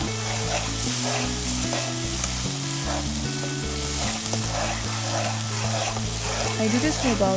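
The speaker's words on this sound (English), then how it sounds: "stir all of it together" Seasoned food with black pepper and pink salt sizzles and fries steadily in a pan while being stirred, a constant close hiss with scraping under a person talking and background music.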